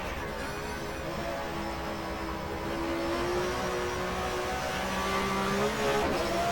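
A race car in the GTR2 video game holds 6th gear on a 1994 German Touring Car Cup lap at Zandvoort, giving a sustained, steady engine drone that rises slightly in loudness partway through, with no talk.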